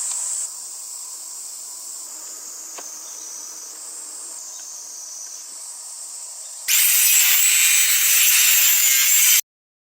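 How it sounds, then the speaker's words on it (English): Corrugated metal roofing sheets are cut to size during construction of a wooden house, giving a steady thin high whine that becomes a much louder, harsher grinding cut for a few seconds before stopping abruptly. "He is cutting the corrugated sheets to the required size and trimming away the excess material."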